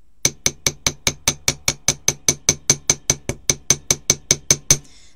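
A small toffee hammer strikes a wire bracelet resting on a mini metal block, about twenty-two bright, ringing metallic taps in a fast, even rhythm, close and loud, then stops.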